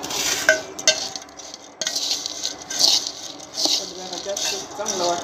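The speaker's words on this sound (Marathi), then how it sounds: "हे चांगलं मिक्स करून घ्यायचं." Food being stirred and mixed with a spoonful of oil in a pan, with irregular scraping and clinking of a utensil against the metal and a faint frying hiss throughout.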